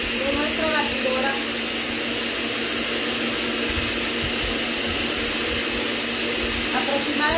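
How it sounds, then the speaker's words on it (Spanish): An electric stand mixer whips eggs for a Black Forest cake, giving a steady, loud, continuous whirring hum with no change in pace for the whole stretch. "van a escuchar los ruidos, chicas, de nuestra batidora"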